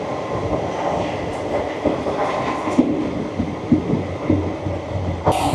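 A passenger train pulling into Chengail station gives a heavy, continuous rumble with rhythmic wheel clunks over rail joints and occasional brief squeals, heard up close from on board.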